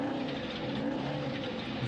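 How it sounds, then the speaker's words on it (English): A continuous, loud roar of several off-road trophy truck engines rumbling together at a distance, steady and droning without pause, at the Baja 1000 desert race. "Listen to all those engines just roll."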